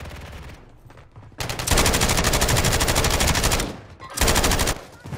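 Rapid automatic gunfire in Call of Duty comes close and loud in two long sustained bursts separated by a short lull, opening after a quieter stretch.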